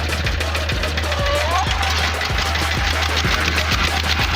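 A tractor engine chugs steadily nearby with a regular low thumping pulse, a rough idling rumble that continues without break.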